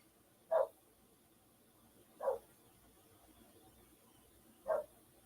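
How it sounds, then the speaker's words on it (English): Three single dog barks ring out a couple of seconds apart, moderately loud over a quiet background with no talking. "I don't know what he's barking at."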